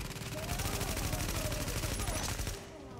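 Sustained blind gunfire from The Division, a dense rapid stream of shots roaring steadily for about two and a half seconds before dropping off into quieter game ambience.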